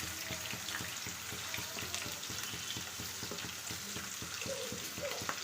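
Green chilies fry in a pan as the tempering for broken-rice bagara rice, a steady low sizzle with faint stirring and scraping running throughout, fairly quiet and without any voices.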